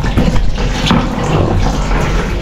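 Water from a shallow well pump gushes in a steady, loud stream, splashing and churning without pause for the whole stretch.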